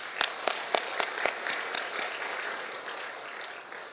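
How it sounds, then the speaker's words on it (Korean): A church congregation applauds its choir during a Sunday worship service: a steady, moderately loud burst of clapping from many hands, with a few sharper individual claps standing out early before the applause thins and tapers off. "우리 박수로 격려해 주시기 바랍니다."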